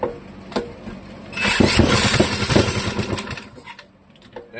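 A Clinton model 3100 small engine sputters, catches and runs for about two seconds with a rapid uneven chugging putter, loud and close, then dies away to quiet.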